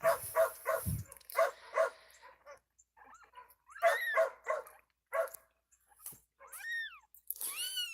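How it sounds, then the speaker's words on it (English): Country dogs bark in short repeated bursts at moderate distance, pausing between volleys, while kittens mew with high, rising cries near the end. "A neighbor dog's barking, and so he's having to join in."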